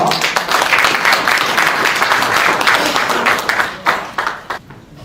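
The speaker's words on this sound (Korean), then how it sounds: "교수님을 박수로 모시겠습니다." An audience at a lecture event for a professor applauds in a dense, loud wash of clapping that holds steady, then thins and tapers off toward the end.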